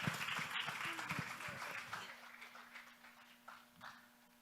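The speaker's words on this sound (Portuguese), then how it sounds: "As palmas, aplauda o Senhor" A congregation at a Friday evening church service claps in praise, a fairly faint, blurred patter that fades gradually, with a voice heard briefly at the start.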